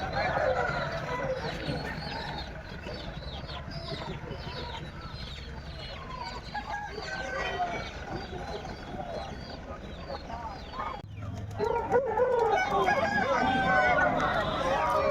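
A flock of country chickens at a poultry seller's, with close clucking running throughout and a rooster crowing, while people talk nearby.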